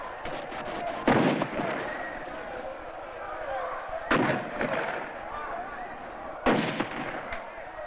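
Troops open fire on demonstrators at a peaceful protest in San Salvador: three sharp bursts of gunfire, spaced a few seconds apart, ring out against a steady crowd din.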